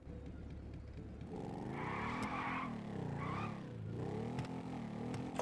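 A Royal Enfield Bullet motorcycle engine revs in GTA 5, its pitch rising and dipping in sweeping waves over a steady low drone.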